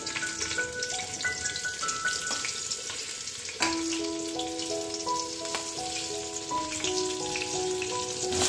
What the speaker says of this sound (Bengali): এখন এই শিম আমি একটু ভেজে নেব তেলের মধ্যে